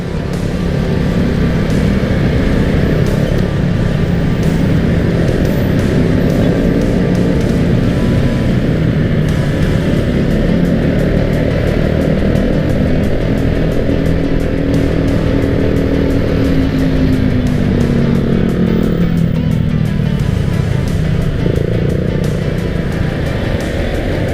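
Dense street traffic crawls through a Jakarta traffic jam, a loud, continuous roar of car and motorcycle engines near by, with engine hums that rise and fall.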